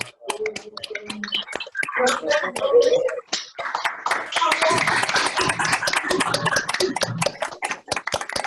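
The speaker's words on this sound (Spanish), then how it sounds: "Yo quiero pedir a todos los participantes un fuerte aplauso para Michelle Aguer" Applause from a crowd builds into a dense, continuous patter of clapping, with a voice speaking briefly before it swells.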